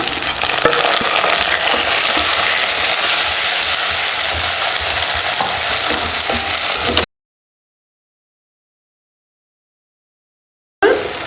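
Tomatoes and onions sauté in hot oil for an anchovy fish curry, a loud dense sizzle with scraping stirring that runs for about seven seconds, cuts to silence, then briefly returns.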